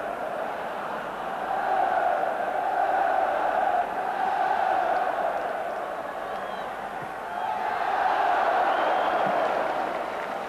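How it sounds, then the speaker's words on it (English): Large football crowd at Ibrox cheering during Rangers against Stranraer in 1989, a broad sustained roar that swells, dips and swells again, heard from a distance with a commentator talking over it. "the Ibrox faithful acknowledged the unhappy plight of the visitors and began cheering any Stranraer move"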